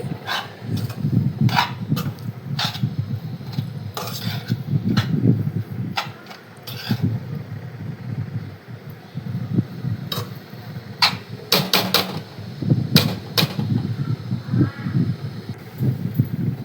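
Carrot halwa stirred in a pan on a low flame, a spoon scraping and clinking irregularly against the metal in close, sharp taps amid soft sizzling, with a few quiet gaps.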